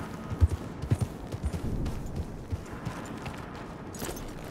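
Horse hooves clip-clopping in Red Dead Redemption 2 in an uneven run of hoof thuds that are strongest at the start and then fade to softer, sparser steps over faint background ambience.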